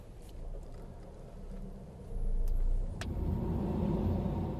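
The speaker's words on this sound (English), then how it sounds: "The white B-Class is on a collision course." A white Mercedes B-Class drives at city speed toward an obstacle during a collision-avoidance test. Steady engine and road noise rumbles throughout and swells briefly partway through, with no talking.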